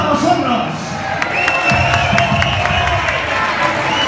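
A nightclub crowd at a retro dance-music event applauds and cheers, a dense spread of clapping and shouting, loud and close, with music and voices mixed in throughout.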